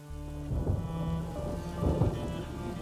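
Heavy rain and rolling thunder fill a storm scene in the video game A Plague Tale: Innocence, a steady hiss of downpour with deep rumbles swelling twice, and no voices.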